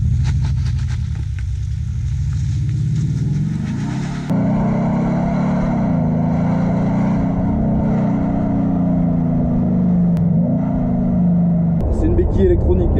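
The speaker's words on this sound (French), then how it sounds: "On a un bouton sport qui active l'Active Sound dans l'échappement, qui fait que votre moteur diesel a le son d'un gros moteur essence." Maserati Ghibli diesel engine with the Active Sound exhaust in sport mode, a loud, steady low engine drone heard from inside the car, with a sudden shift in tone partway through and a change again near the end.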